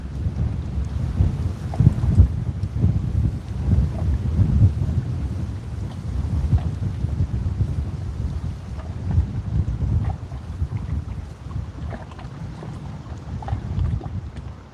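Strong, gusty wind buffets the microphone throughout an outdoor catfishing session, a steady low roaring rumble with louder surges, close and continuous, with no voices.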